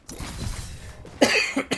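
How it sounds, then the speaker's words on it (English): A person with a lingering cold coughs a few times in quick bursts, close to the microphone, after a stretch of low murmuring voice. "And I apologize everyone for my cough."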